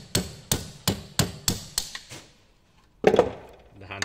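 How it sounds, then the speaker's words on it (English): Six sharp metallic taps in an even rhythm, a hammer striking a flathead screwdriver against a door handle's shroud, followed by a brief pause and a short clatter. "Put your flathead screwdriver just against the shroud, and with your hammer, couple of gentle taps"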